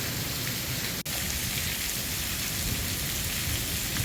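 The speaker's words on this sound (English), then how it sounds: "Enjoying the rain." Steady rain pours down on Galapagos tortoises, a dense continuous hiss of drops striking surfaces and falling off a roof, with one brief sharp click partway through.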